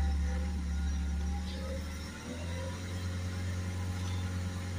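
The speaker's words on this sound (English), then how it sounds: "Put the acceleration up to 2500 RPM." A car engine running steadily, with a low continuous drone that shifts slightly in pitch midway as it is held at raised revs, heard close and alone.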